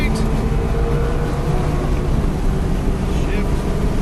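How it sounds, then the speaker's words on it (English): A race car engine roars steadily at full throttle down a straight during an SCCA time trial at MSRC, loud and constant with heavy wind noise throughout. "Alright, full throttle down the straight."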